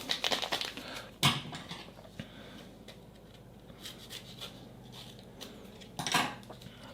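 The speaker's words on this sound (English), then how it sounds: "Let's give it a stir." A utensil stirs hydrating yeast in a bowl, giving soft scraping and rubbing with a couple of sharper clinks against the bowl, close and quiet with no voices.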